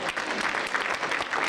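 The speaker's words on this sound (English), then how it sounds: "I want you to give a big round of applause to your parents for their help this year." A crowd claps steadily for parents at a school year-end gathering, dense and continuous applause throughout with no voices over it.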